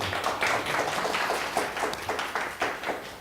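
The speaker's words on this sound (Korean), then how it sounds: "이런데 박수 한번 딱 치는 겁니다." Applause from an audience at a seniors' speech gathering: a steady run of many hands clapping together, moderately loud and continuous for a few seconds, with no voices over it.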